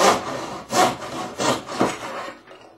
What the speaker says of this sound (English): It doesn't take much, just a couple passes underneath the blade, and the stem will be cut nice and square for you